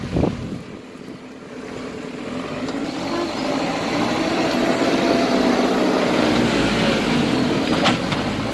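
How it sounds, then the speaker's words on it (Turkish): An excavator working at a sand site unloading sand into a truck, its engine a continuous mid-distance rumble with wind buffeting the microphone and a few faint clanks. "Aa iş makinesi kepçe. Çalışıyor burada."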